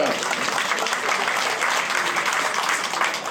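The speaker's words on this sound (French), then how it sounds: "Merci d'applaudir Romain Polizek." An audience applauds cyclist Romain Polizek at a UC Briochine cycling club season presentation evening, dense and sustained clapping from a crowd that fills the room at a steady level throughout.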